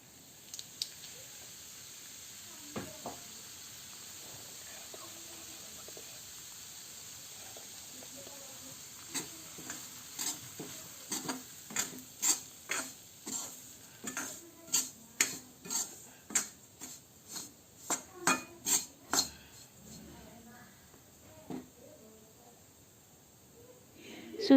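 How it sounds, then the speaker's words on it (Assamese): Semolina (suji) fries in oil in a hot kadai-style wok. It hisses quietly at first, then a metal spoon scrapes and stirs in quicker, louder rhythmic strokes. "এতিয়া চুজিখিনি ভাজি ল'ম।"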